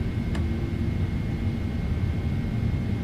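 Engines of a PMDG 777 airliner during climb in Microsoft Flight Simulator, a steady broadband roar with a low rumble and a faint high whine, constant and unbroken throughout.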